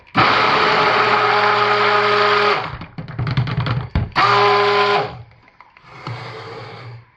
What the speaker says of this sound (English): stick that under the stick blender head, burp it, turn it on, pull it up